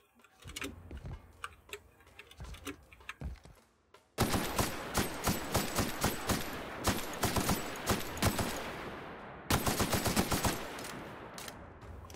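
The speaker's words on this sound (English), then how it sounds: "It takes a lot of shots from that distance" Video game gunfire in The Outer Worlds: quiet, sparse shots at first, then a sudden loud stretch of rapid repeated shots with brief pauses, loud and close.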